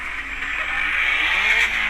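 A Mk6 Volkswagen GTI engine with its exhaust fallen off gives a raw, loud roar rising steadily over two seconds, harsh and unmuffled, with no voices.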